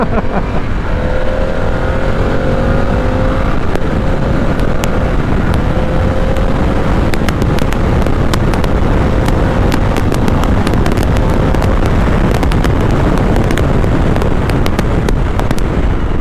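A Harley-Davidson Pan America 1250 Special motorcycle in off-road mode accelerates hard along an open road, its engine note rising steadily under constant loud wind buffeting across the microphone, with no talking.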